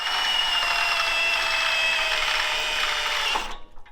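A power drill whirs steadily at high speed, close by, then winds down and stops near the end.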